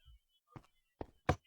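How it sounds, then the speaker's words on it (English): Minecraft note block set to the snare drum, giving three short, dry, snappy hits spaced unevenly, each crisp and quiet, preceded by a faint low thump, with nothing else around them. "snare drum"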